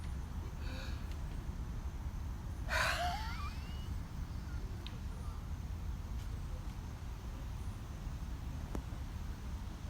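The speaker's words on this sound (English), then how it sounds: "When we start breathing, we're going to have that raspy wind or noise coming from our throat." A single forceful, raspy exhale from the throat in a lion's breath breathing exercise, loud and close near the middle, with quiet room noise before and after.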